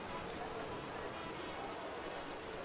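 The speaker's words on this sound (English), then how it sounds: "The rain picks up again" Steady rain falls outdoors, a dense continuous hiss of drops striking surfaces, close and even in level throughout with no voices.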